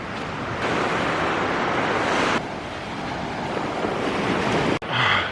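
Ocean surf rolls in on a black sand beach on the Tenerife coastline as a continuous broadband wash, loud and close, with wind buffeting the microphone throughout and a brief dropout near the end.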